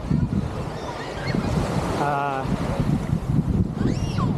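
Surf washing onto Boracay Beach on a busy day, a steady broad roar of waves with wind buffeting the microphone and faint voices of beachgoers in the background.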